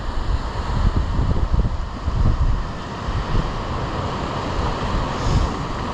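Ocean surf at Pescadero Beach rolls in as a steady, loud wash of breaking waves with wind rumble on the microphone, swelling and easing without a clear break across the whole stretch.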